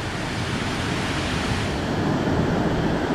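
The waterfall at Little Falls on the Passaic River roars in a steady, dense rush of falling water, heard from a bridge, continuous and loud with no other sounds.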